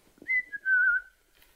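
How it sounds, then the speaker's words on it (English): A person whistles a short sliding tone, starting with a brief rising note then holding a longer gliding pitch, close and clear in near silence. "He's whistling."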